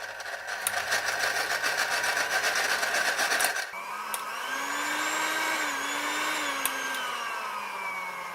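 A serviced hand mixer runs steadily with a buzzing rattling motor whine, then shifts to a smoother, slightly lower continuous hum with a faintly wavering pitch.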